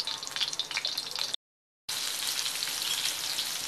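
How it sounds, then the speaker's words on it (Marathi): Stuffed spiny gourds (kantola) frying in about two spoons of oil give off a steady, close, bright sizzle that cuts out briefly and then resumes just as loudly, with no voices. "त्याच्यामध्ये अशा प्रकारे सर्व कंट्रोली भरून अशा सर्व तळून घेणार आहे।"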